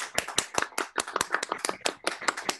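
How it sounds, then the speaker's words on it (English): An audience applauding after a digital concert performance, a small group of sharp claps at an uneven steady patter, close and fairly loud, with no voices over it. "It's so grateful to hear your applause."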